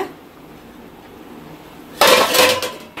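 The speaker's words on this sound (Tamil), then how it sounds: "இப்போ மூடி எடுத்துட்டு நம்ம மீனை போடுவோம்" After a quiet simmering hush of Kerala sardine curry, a metal pot lid is lifted off with a short, bright clatter and rattle close by.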